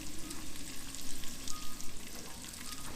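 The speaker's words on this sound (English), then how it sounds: "Okay, we're gonna put the onions in first." Onions dropped into rendered bacon fat in a pan, a loud close crackling sizzle with bubbling pops throughout, no talking.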